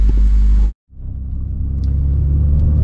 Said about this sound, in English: All right, we're test driving the car,